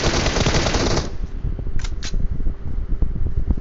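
Dense, rapid gunfire in the PUBG Mobile game rattles loudly for about a second, then gives way to scattered shots, clicks and game noise continuing underneath.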